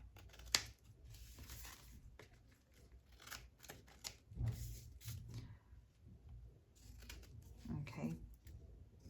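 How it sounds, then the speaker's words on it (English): Scissors snip through paper while making a tag notebook or mini journal, a few quick close cuts among handling noises and faint rustling. "Just going to snip this off like this."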